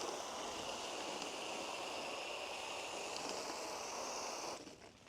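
A snow foam sprayer on a garden hose sprays blueberry snow foam onto a Honda Gold Wing motorcycle, making a steady, even hiss that runs nearly unbroken and then thins out just before the end.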